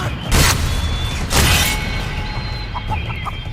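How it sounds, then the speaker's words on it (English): Chickens in the VR game Blade & Sorcery: Nomad, a few short clucks and chirps over a low rumbling background, with two brief bursts of broadband noise, close and fairly loud. "More chickens."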